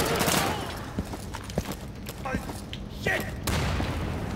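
Grenade blasts go off inside a mess hall during an Insurgency match, a dense burst of booms and rattling gunfire-like crackle with several sharp hits, loud and close, while a player swears under the noise.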